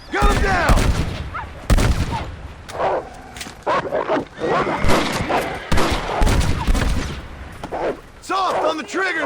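Gunfire in Red Dead Redemption, played on hardcore difficulty: repeated loud shots and bursts ring out in irregular clusters, mixed with a dense game soundtrack and character voices talking over the action.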